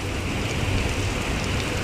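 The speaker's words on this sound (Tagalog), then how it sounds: "Lakas ang ulan." Steady, dense hiss of heavy rain falling in Abu Dhabi, UAE, close and unbroken, with no voices over it.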